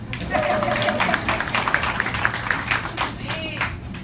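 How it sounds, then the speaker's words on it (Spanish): An audience applauds during a church sermon, scattered claps running steadily for about four seconds with a voice heard over them. "un aplauso al modelo"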